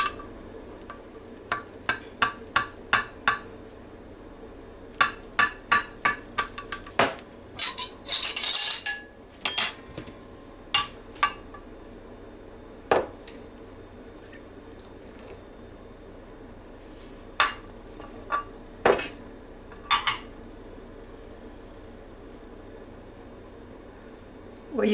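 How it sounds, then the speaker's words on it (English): Cutlery clinks and taps against a plate as a slice of fruit cocktail cake is cut and lifted, a string of sharp, irregular metallic ticks with a brief scraping burst midway. "I think it has cooled off enough for us to cut us a slice"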